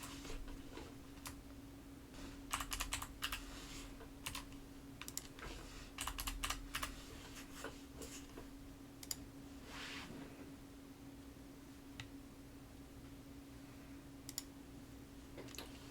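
Keys on a computer keyboard click as a password is typed, in quick irregular bursts and isolated taps over a faint steady hum, close and fairly soft with pauses between runs.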